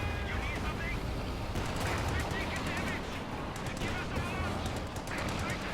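Stun shot gunfire in Company of Heroes 2, a dense burst of crackling shots and battle noise running steadily under a speaking voice.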